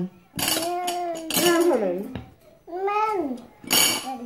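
Spoons and dishes clink in brief, scattered taps at a family lunch table where pandan chiffon cake is served, largely buried under close, lively children's voices chattering throughout.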